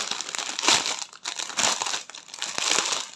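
Plastic packaging around cross stitch thread skeins being unwrapped, with loud, close crinkling and crumpling in several bursts and no talk.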